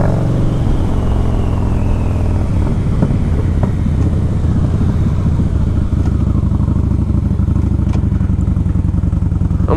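A 2014 Yamaha Bolt motorcycle engine throbs loud and close on a test ride, a continuous low rumble with wind buffeting and occasional mechanical clatter as it pulls.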